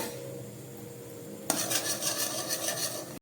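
Semolina scraped and stirred with a utensil in a pan of ghee while frying for halwa, a faint rasping scrape at first, then louder rhythmic metallic stirring strokes.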